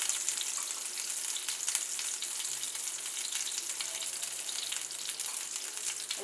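Cumin seeds sizzle in melted butter with leftover oil in a pan, a steady close crackling hiss that holds evenly throughout with no voices.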